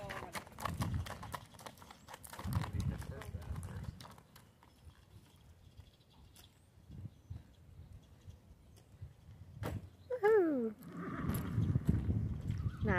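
A 12-year-old solid black gaited horse walking back to the barn under a rider, steady clip-clopping hooves close by with a brief whinny, while people talk nearby.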